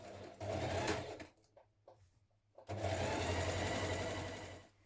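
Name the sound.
sewing machine stitching hoodie side seam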